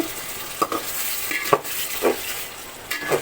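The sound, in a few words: shrimp and potatoes sautéing in a pan for ridge gourd curry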